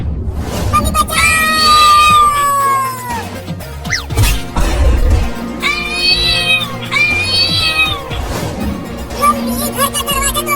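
A cartoon cat gives several loud, drawn-out meows and yowls in bursts, mixed with crashing and banging effects and music.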